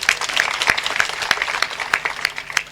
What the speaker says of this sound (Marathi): खरोखरच महाराजासाठी एकदा गोड टाळ्या वाजवा.